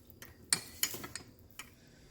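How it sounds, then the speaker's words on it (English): A spoon clinks and scrapes against a bowl while mixing a cornstarch-thickened sauce for beef and broccoli, a few sharp, close taps spaced irregularly over a quiet background. "I'm going to give this a good mix."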